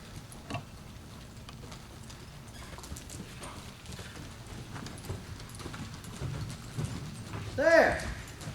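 A horse called Naughty lopes under a rider in a riding arena, its hoofbeats a steady, muffled three-beat rhythm at moderate distance, with a voice briefly rising near the end.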